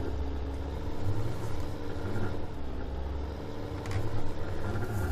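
Steady low engine rumble from a vehicle slowly reversing a bigger trailer, a continuous near drone that swells slightly at moments, with no talking.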